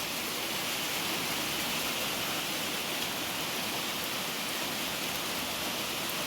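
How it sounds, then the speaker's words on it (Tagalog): Steady, dense rain falling in the province, a constant wash of hiss and patter with no breaks and no voices. "Maulan sa probinsya."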